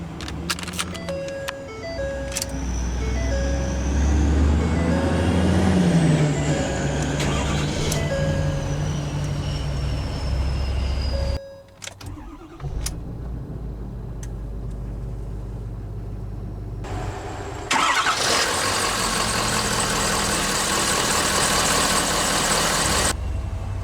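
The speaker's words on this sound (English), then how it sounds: "go ahead and start the engine." 2015 Ford F-250 Super Duty Platinum 4x4 pickup engine, heard up close from the cabin as chimes sound, the starter catches around the midpoint, then a steady loud rumbling idle continues with a bright broadband hiss late on, no talking.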